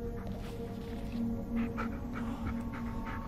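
A dog pants softly in the Blair Witch video game, quick faint breaths over a steady low ambient hum, with no talk.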